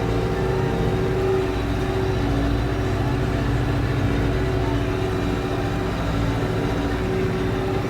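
A New Holland tractor pulls a cultivator across barley and onion fields near Ankara, its diesel engine droning steadily and loudly throughout with a constant low rumble and no talk.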